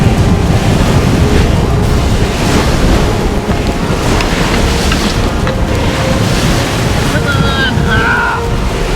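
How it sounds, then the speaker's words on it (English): Ocean waves surge and rush continuously, heavily mixed with loud wind buffeting the microphone, steady and close throughout. "We're getting waves now."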